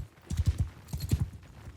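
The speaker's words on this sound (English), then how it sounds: "I just like drifting my horse around corners." Galloping horse hooves in the video game Mount & Blade II Bannerlord: quick clusters of thudding clip-clops close by, a couple of short bursts over about two seconds with little else around.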